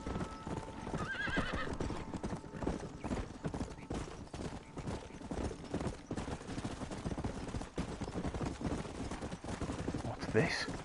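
Horse in Red Dead Redemption galloping with steady rhythmic hoofbeats throughout, neighing loudly near the end, mixed with game sound effects and a voice talking underneath.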